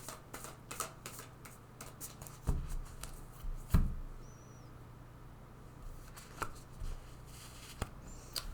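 Tarot cards from a Work Your Light deck being shuffled, quiet rustling and riffling flicks scattered through the clip, with a couple of louder thumps near the start of the second half.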